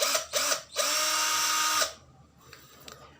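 A DCA cordless hammer drill whirs loudly up close in two short bursts, then runs in one steady high-pitched spin of about a second before cutting off, leaving faint clicks.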